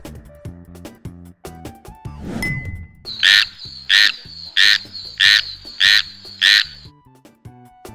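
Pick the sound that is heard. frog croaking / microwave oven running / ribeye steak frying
frog croaking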